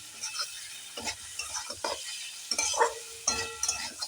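Jackfruit curry being sautéed in a pan over a high gas flame, with repeated stirring scrapes and clinks of a spoon against the pan over a steady close sizzle.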